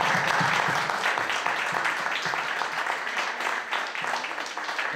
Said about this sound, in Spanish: Yo les quiero dar un aplauso a todas las mamás que están presentes.